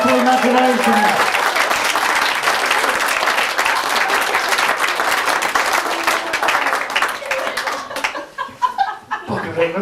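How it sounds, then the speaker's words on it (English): Audience applause at a live comedy hypnosis show in England, loud, dense clapping filling the room for about eight seconds, then thinning out and fading as a few voices and laughs come through. "Give them a round of applause, these people have got wonderful imaginations"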